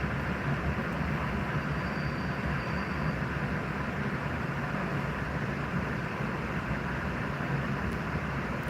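A steady, broadband rumble and rushing noise of a moving exo commuter train carriage near Montreal, constant and even throughout with no voices.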